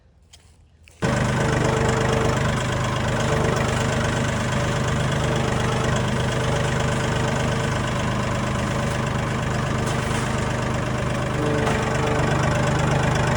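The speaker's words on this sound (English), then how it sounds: "It was so easy just to use the tractor just to move this thing wherever you want it." A farm tractor engine starts up and runs steadily at a loud, close idle-to-working drone while moving a hog trap across a pasture, with no talking over it.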